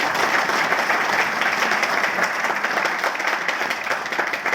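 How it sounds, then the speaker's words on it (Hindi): Dense, sustained applause from a large audience at a Hindi-language wellness company motivational event, steady and loud throughout with no voices standing out. "तो एक बार आप सभी के लिए ताली होनी चाहिए, जबरदस्त ताली।"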